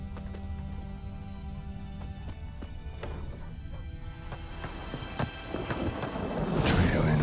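Rain and thunder sound in The Witcher 3 video game, a steady patter with rumbling swelling louder toward the end, mixed with hoof clip-clop from a horse.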